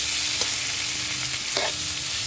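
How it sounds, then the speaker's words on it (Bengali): Cauliflower cooking in a pan gives a close, steady sizzle with a couple of brief scraping stirs, and no one speaks. "এরপর একটু নেড়ে ফেড়ে একটু জল দিয়ে সেদ্ধ করে নেব"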